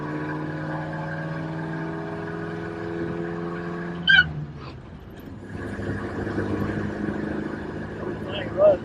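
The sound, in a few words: 1953 Buick engine running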